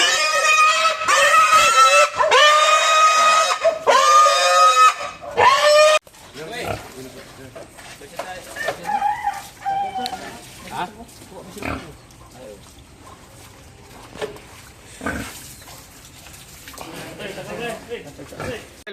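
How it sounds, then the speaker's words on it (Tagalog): Sows squeal loudly and harshly in a long burst for several seconds, then grunt and oink more quietly beneath someone speaking nearby in a farm pen. "Patatlong piraso mga idol na Big Mama Pig"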